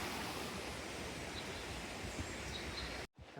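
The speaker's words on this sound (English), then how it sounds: "Straight in, beautiful waterfall." Steady, dense rush of a waterfall near Mount Olympus, Greece, loud and continuous close by, with no voices, cutting off abruptly near the end.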